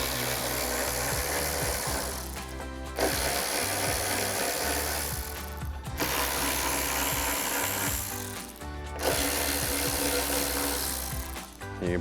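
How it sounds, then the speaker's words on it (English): A ratchet fitted with a T15 Torx socket backs out screws holding the rear spoiler on a 2015-2023 Dodge Challenger R/T Scat Pack, a close, loud, rapid clicking and grinding in three long runs split by short pauses. "we're gonna grab a T15 Torx socket and remove these 4 screws right here"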